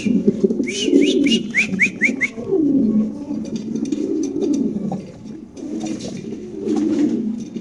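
Fancy pigeons coo in low, throaty, rolling calls, close and continuous, with a quick series of bright chirps early on and occasional faint rustling around them.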